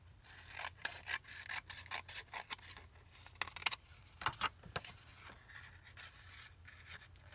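Index cards are cut for a junk journal in a series of close, dry rasping strokes, irregular and fairly quiet, with short bursts and pauses between them.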